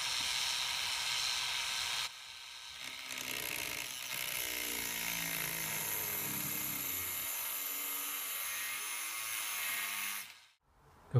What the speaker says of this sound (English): I'm gonna using a Dremel to follow the line to cut it.